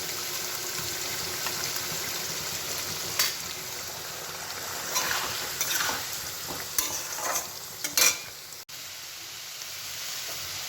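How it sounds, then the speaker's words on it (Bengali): Paneer pieces fry in oil in a pan, a continuous close sizzle with scattered pops and stirring scrapes rising around the middle, then settling, no voices. "বাকি পনিরগুলো এখানে আমি ভেজে নিচ্ছি।"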